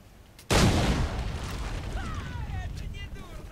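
A sudden loud explosion in the video game Assassin's Creed III bursts in and rumbles on, fading slowly beneath a steady low roar, with faint whistling tones drifting above.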